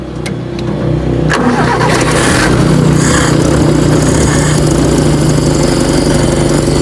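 A carbureted Toyota 4K engine cranks briefly, then catches and settles into a loud, steady idle with a continuous low hum, close to the mic.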